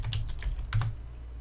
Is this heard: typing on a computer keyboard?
yes